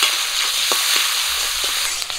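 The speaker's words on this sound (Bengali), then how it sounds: "গরম তেলে দিয়ে দিচ্ছি পাঁচফোড়ন, পেঁয়াজ কুচি, কাঁচা লঙ্কা চেরা" Onion, slit green chillies and panch phoron hitting hot oil in a Bengali kitchen pan, a loud, steady hiss of sizzling with a few soft stirring scrapes, no voices.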